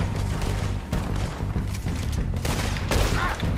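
Gunfire crackles through a train robbery in Red Dead Redemption 2, with dense, continuous volleys and booming shots layered over a constant rumbling game soundscape, loud throughout.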